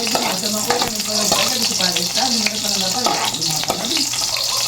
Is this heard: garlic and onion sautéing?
yes